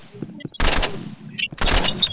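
Gunfire in a video game, two short loud bursts of rapid shots separated by a pause, with faint voices and game sounds in between.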